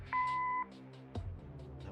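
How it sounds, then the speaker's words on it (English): Answering-machine beep in the adventure game Kathy Rain: a single clear electronic tone held for about half a second, then a thump and background game ambience with no speech. "Leave a message after the beep."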